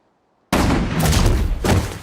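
A commander's strafe gun run in the shooter game Insurgency erupts after half a second of silence as a loud, dense burst of rapid gunfire and impacts, dipping briefly before a second heavy burst.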